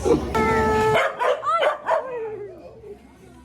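Corgis bark in several sharp, close yaps on an island in Siargao, with a short high tone at the start and the barks tailing off into quieter whines.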